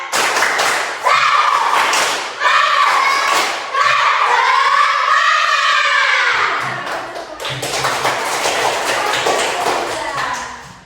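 Schoolchildren in a classroom perform a rhythmic spirit clap, bursts of loud claps and thumps in a patterned sequence mixed with their chanting and shouting voices, pausing briefly midway before resuming.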